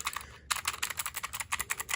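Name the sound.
typing on a mechanical keyboard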